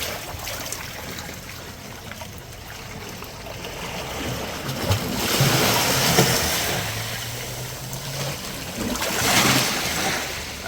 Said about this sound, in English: Yeah, the sound of the water,